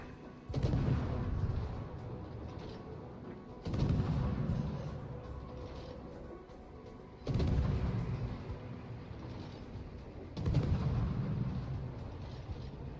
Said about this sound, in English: I'm trying to finish the Donskoy off with guns right now.